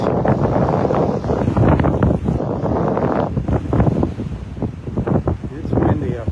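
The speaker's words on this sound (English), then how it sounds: "It's windy up here." Strong gusty wind buffets the microphone on a Gulf beach at Delnor-Wiggins in North Naples, Florida, a continuous roaring rush with a voice talking over it throughout.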